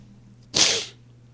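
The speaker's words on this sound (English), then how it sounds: "I feel like I sneezed again." A single short, breathy sneeze bursts out close by, lasting under half a second over a quiet low hum.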